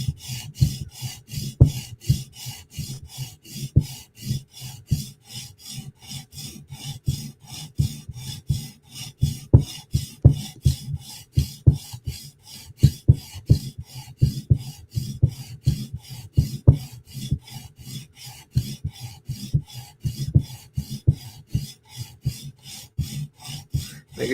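Repeated back-and-forth strokes of a Chris Reeve Umnumzaan Tanto knife blade across a sharpening stone, a steady rhythmic rasping scrape, close and clear with no talking.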